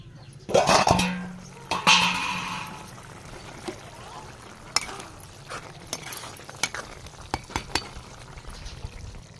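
Egg curry cooking in a pan, with a couple of louder pours and stirring scrapes at the start, then scattered utensil clinks and light taps over a quiet simmer.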